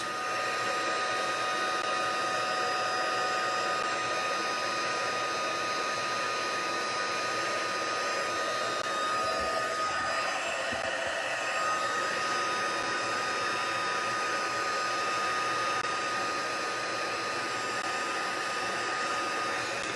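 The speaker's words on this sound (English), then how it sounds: "as you see the powder melting, just slowly move the heat tool around." A heat tool blows steadily to melt embossing powder during a card-stamping craft job, a loud continuous hair-dryer-like whoosh with no talking, lasting the whole stretch.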